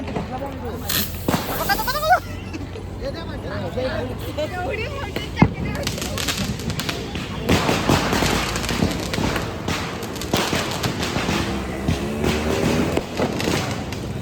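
Crackling bursts and sharp pops of Bhai Dooj festival firecrackers, including ground spinners, amid a noisy crowd, with people talking throughout.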